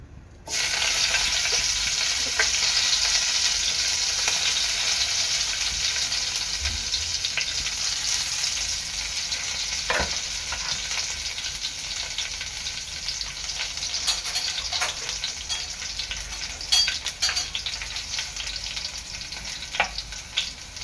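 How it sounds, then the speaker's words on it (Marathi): Curry leaves, chilies and cumin sizzle in hot oil, a loud, steady crackling hiss that holds for the whole stretch with small pops scattered through it. "तेल गरम झालेलं आहे आता मी कढीपत्ता मिरची आणि जिरं टाकत आहे"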